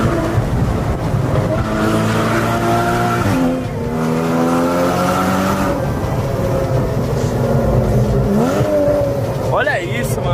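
A Porsche sports car with its exhaust silencer removed, running in Sport Plus mode, revs loudly and steadily with rising and falling engine harmonics up close, while someone talks over it.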